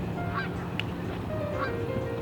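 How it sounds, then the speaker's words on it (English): Geese honk a few times close by, with short nasal calls spread over a couple of seconds against a steady outdoor background. "There's just like waterfowl going next to Brian. All these birds are coming to you"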